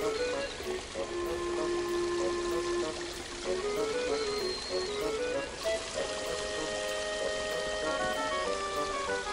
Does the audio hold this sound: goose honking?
no